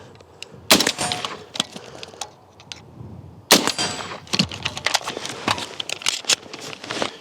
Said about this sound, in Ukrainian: приєднати магазин, зарядити зброю і далі можна стріляти.